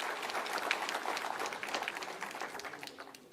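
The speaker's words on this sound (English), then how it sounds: "So he really deserves a big round of applause." An audience at a startup event applauds in a dense wash of many hands clapping, moderately distant and fading slightly toward the end.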